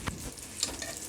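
Fresh okra (bhindi) hitting a hot pot for bhindi masala, a soft hiss with a couple of brief clattering stirs and bumps, fairly quiet and close with no voices.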